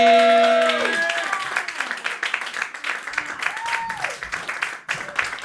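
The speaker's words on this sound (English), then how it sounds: "Start clapping right now for your next opponent." At a comedy roast battle show in New York, a crowd claps and applauds for the next contestant, with sustained dense clapping that starts under a shouted voice and continues with scattered cheers.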